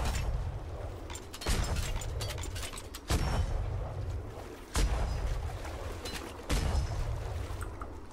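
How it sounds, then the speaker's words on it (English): Puckle gun in the video game Atlas firing rounds into wood planks, four heavy booming shots spaced a couple of seconds apart, each followed by a rumbling decay, loud and close with no talk. "Alright, so now we will use the Puckle gun. We're gonna aim in one place."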